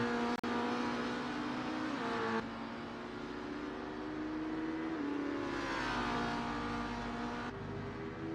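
Race car in the Simspeed Super TC touring car game, engine whining loud and close through gear changes as it accelerates, pitch climbing and dropping with each shift, a sharp click near the start.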